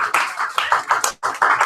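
Audience at a live weekly open mic and poetry reading clapping loudly and close, a dense burst of hand claps that swells in waves, drops out briefly, then resumes strongly.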